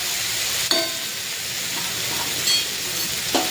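Roasted tomatoes are stirred in a hot pan for tomato chutney, with a soft continuous sizzle and three brief scraping strokes of the spoon, close by and with no talking.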